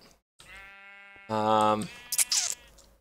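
Sheep in a Minecraft modpack game bleat from a small pen, a steady synthesized bleat followed by a louder, fuller one, with brief clicks and splashy noise afterward.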